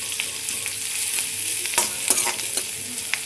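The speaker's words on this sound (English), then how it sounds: "You have to cook the onions very much so that they release all the sweet juices from them." Onions fry on a medium-to-high flame with a steady hiss, broken by light stirring scrapes and small crackling pops, close by and with no one talking.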